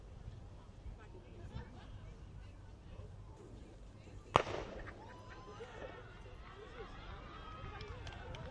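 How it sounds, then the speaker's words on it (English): A starting gun cracks once, sharp and loud, to begin a track heat at an outdoor collegiate conference meet, cutting through steady crowd murmur. "Gun is up for second heat."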